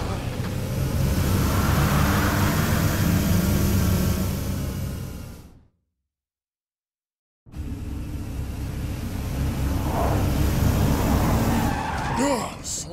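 Car driving in the video game Binary Domain, loud engine roar with tire skids and squeals, cut by a couple of seconds of silence before the racing and skidding resume, with voices talking over parts of it.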